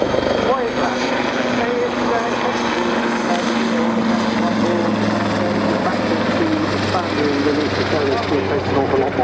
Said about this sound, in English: A nice little bit of plane slap there into the hover.